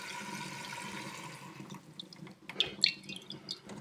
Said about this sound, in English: What I have to do next is carefully pour everything out into some more water.